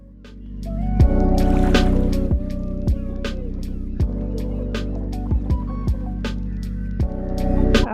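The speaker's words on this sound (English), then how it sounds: "now we're gonna top stitch just like we did on the other side with the lining out of the way" Sewing machine top stitching a zipper pouch, a steady continuous motor hum with rapid needle rhythm, broken by several sharp clicks and pauses as the fabric is adjusted.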